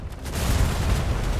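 A ship's cannons fire a volley in the video game DarksideRP, a loud rumbling burst of overlapping booms that fills the whole short moment.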